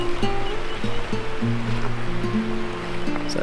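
A mountain stream on the Haunted Stream Track in Victoria's High Country flows steadily, a continuous close rushing wash of water with faint low tonal hums underneath and no speech.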